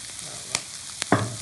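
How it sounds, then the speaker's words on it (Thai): Curry powder stir-fried in a pan for a shrimp dish, heard as a few quick spatula scrapes and then a short burst of sizzling. "ผงกะหรี่ครับ ใส่ไปผัดตอนนี้นะครับ"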